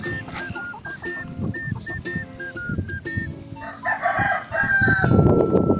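Roosters about three to four months old crow one after another, their long calls overlapping, while hens cluck and murmur nearby; the crowing grows louder toward the end.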